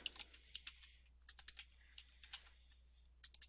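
Soft, close computer keyboard typing with quick bursts of light key clicks and short pauses between them, alone and fairly quiet.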